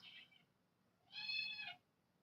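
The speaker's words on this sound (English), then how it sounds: "Please ignore my kitten meowing." A kitten meows twice, a short faint mew followed by a longer, higher meow, close by in an otherwise quiet room.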